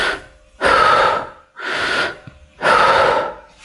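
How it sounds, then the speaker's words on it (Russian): Rib breathing exercise, expanding the lower ribs outward: three loud, close breaths, a sharp airy inhale, a longer exhale and another forceful inhale, with clear pauses between and no speech. "Второе дыхание – это средней частью легких или реберное дыхание"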